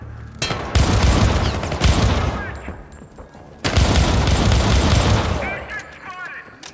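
Video game gunfire from Syndicate, loud punchy bursts of automatic shots with booming impacts in two volleys, with voices underneath.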